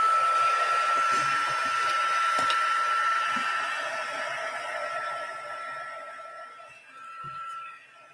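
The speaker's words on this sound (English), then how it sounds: "we can heat it with the heat tool." A heat tool blows hot air steadily to dry glue on a handmade card, a continuous whooshing hum with a faint tonal whine that fades slightly toward the end, with light handling noises underneath.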